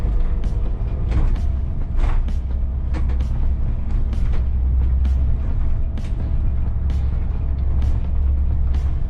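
City bus on route 24 driving in the evening, a steady low engine rumble with creaks and rattles from the cabin and occasional faint clicks, continuous throughout.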